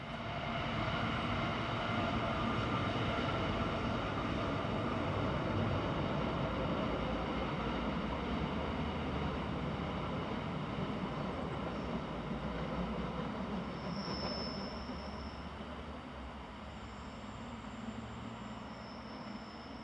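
Swiss narrow-gauge train number 628 heads west near Pagrug on the 1141 service from Schuol-Tarasp to Landquart, giving a loud, steady rolling rumble that continues throughout and eases slightly toward the end.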